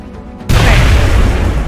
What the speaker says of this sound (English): She pops around and flanks them and throws her own grenade.